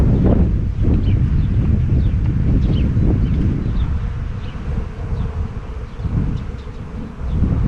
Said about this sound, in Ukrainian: Бджоли дуже багато.